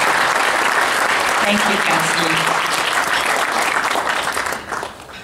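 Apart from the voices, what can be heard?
audience applause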